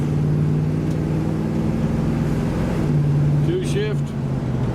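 A 1973 Chevrolet El Camino SS 454 driving up a street, its V8 engine giving a steady, loud, close drone, with a brief change in pitch as it shifts gears near the end.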